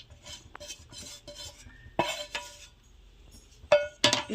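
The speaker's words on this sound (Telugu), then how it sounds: "ఇవన్నీ ఇట్లా మిక్స్ చేసుకోవాలండి" A spoon stirs fried vegetables into vegetable pongal in a pan, making intermittent scraping strokes and soft metallic clinks. A few sharper, louder clinks come near the end, with no talking.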